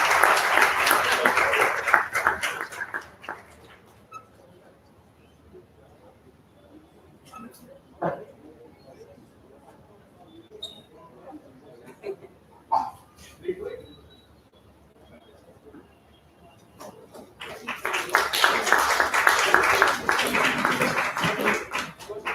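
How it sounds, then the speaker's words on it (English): An audience at an AI conference in Hyderabad claps in two bursts, one at the start and another near the end, with talking and scattered noises in between. "A big round of applause."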